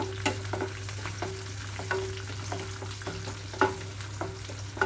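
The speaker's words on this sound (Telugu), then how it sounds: "కట్ చేసి పెట్టుకున్న ఉల్లిపాయలు పచ్చిమిరపాయలు వేస్తాను ఇక్కడ ఉల్లిపాయలు కొంచెం ఆగేటప్పుడే ఇందులోకి వెల్లుల్లి రెమ్మలు కూడా వేసుకుంటున్నాము" Onions, green chilies and garlic cloves fry in a pan with a steady low sizzle, broken by regular scraping stirs of a spatula every second or so, close and alone.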